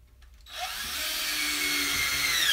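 A power drill drives screws into particle board, starting after a brief quiet moment and then running as a steady, close, continuous whir that rises slightly in pitch.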